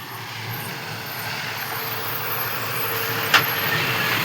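Steady rumble of vehicles passing on a mountain ghat road near Nashik, engines and tire noise blending into a continuous drone, with a brief hiss near the end.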